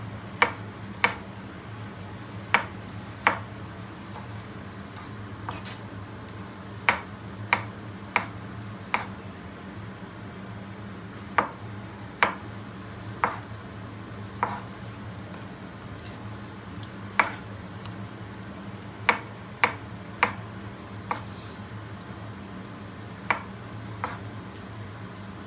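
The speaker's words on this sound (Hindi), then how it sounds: "टमाटर चॉप कर लेते हैं।" A knife chops small tomatoes on a cutting board in a home kitchen. Crisp knocks land in irregular clusters over a steady low hum and a soft sizzle from a covered pan of onions.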